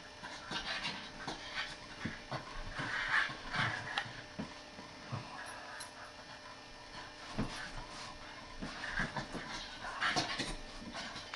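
A dog hiccups repeatedly after swallowing air, making soft, close gulping catches mixed with panting and faint whimpers in a steady, irregular rhythm.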